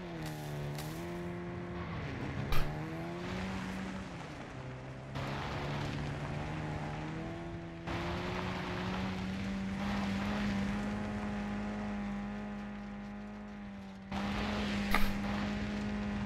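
A vehicle's engine in Call of Duty: Modern Warfare III drones steadily with a rising and falling pitch as it drives, loud and continuous, with a few brief bumps and a short dip near the end.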